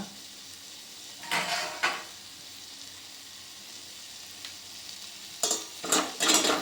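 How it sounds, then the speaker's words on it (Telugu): Tomatoes for rasam cook gently over a low flame: a quiet, steady background sizzle broken by a few short bursts of stirring and scraping in the pan. "స్టవ్ సిమ్లోనే ఉంచుకొని టమాటాలు లైట్గా మగ్గే వరకు మనం అలా ఉంచి"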